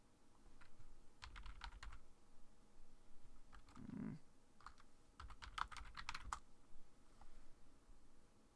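Computer keyboard typing in quick, close bursts of clicks separated by short pauses, with a brief low thump in the middle, during a Minecraft multiplayer session.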